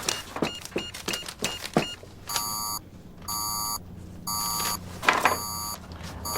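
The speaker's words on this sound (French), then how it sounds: "Est-ce que les mallettes d'aujourd'hui font toujours ce bruit-là?" A few clicks and clatters, then a briefcase's electronic alarm beeps in four steady, evenly spaced bursts with short gaps, loud and close.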